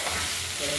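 Thinly sliced banana stem, tempered with mustard seeds and mixed with green chili, salt and turmeric, is stirred in a hot wok, giving a brief, close, steady sizzle with scraping.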